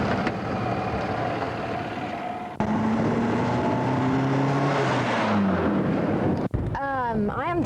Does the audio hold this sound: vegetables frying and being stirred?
no